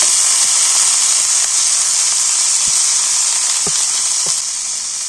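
Chopped potato, carrot and beans tipped into hot oil with cumin give a loud, steady sizzle and hiss close by, with a few soft clinks of a utensil near the end.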